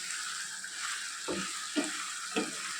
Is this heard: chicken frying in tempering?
yes